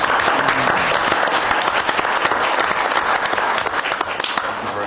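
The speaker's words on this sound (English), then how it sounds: "Anyway, you deserve a round of applause." Steady audience applause fills the room from start to finish, dense and loud with no voices breaking through, as a crowd honors a department's quick action and bravery.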